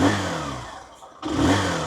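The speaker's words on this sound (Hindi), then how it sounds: "आइडियल कंडीशन पर इंजन साउंड सुनो, एग्जॉस्ट नोट सुनो, थ्रॉटल देता हूँ" A Hero Splendor motorcycle engine revs up under throttle, dips briefly as the revs fall away, then rises again, heard close and alone.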